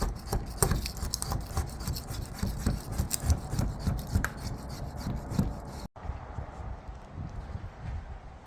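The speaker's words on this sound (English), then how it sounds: "right now, just scrubbing this with water" Car interior trim on a Honda Civic RT4WD wagon being scrubbed with water, a close, loud, rhythmic brushing and rubbing that continues steadily with a brief pause near the end.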